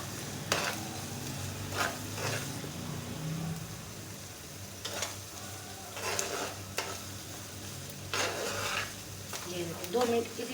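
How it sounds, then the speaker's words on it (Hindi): Onions with chilli and turmeric fry and are stirred in a pan, making a low sizzle broken by repeated scraping strokes of a spoon against the metal. "2 मिनट इसी तरह हम इसको भून लेंगे"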